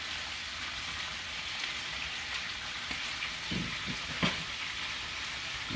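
A hot skillet sizzles steadily with cilantro and lime fajita ingredients, a loud, rain-like hiss throughout, broken by a few soft stirring knocks near the end; no talking.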